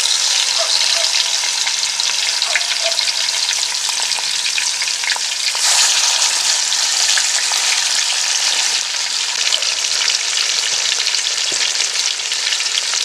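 Masala-coated chicken frying on a bed of curry leaves at an outdoor camp cookout gives off a loud, steady, close sizzle and crackle that lasts the whole time, with no talking.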